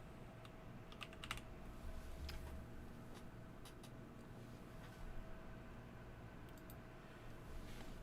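Light, close keyboard typing on a computer keyboard arrives in scattered clusters of quick clicks over a steady hiss of room noise, fairly quiet overall.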